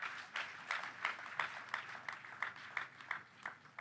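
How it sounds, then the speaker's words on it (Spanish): A church congregation claps in a steady rhythmic beat, faint and somewhat distant, with no voices over it. "Vamos a aplaudir a Jesús."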